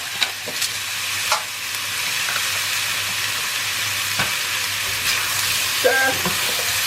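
Steady sizzling from a cooking pot of Chinese food, seasoned with salt and pepper before the noodles go in, with a few spoon clinks and scrapes scattered through it.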